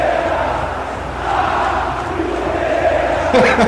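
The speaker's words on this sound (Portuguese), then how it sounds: "parte da torcida gritava do Flamengo burro para o Vitor Pereira" Football supporters at a Flamengo match chant insults at the coach, a loud, massed roar of many voices filling the stadium throughout, rising slightly toward the end.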